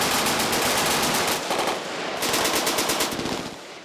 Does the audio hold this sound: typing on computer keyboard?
no